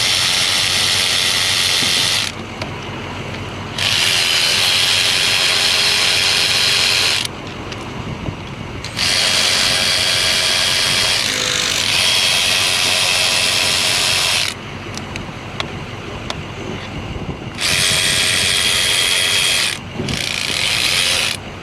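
Fuel injector bolts being snugged on a 2003 Ford F450 with the 6.0 diesel, a power ratchet or driver whirring in repeated bursts of a couple of seconds each, separated by pauses with clicks and handling noise, close and loud.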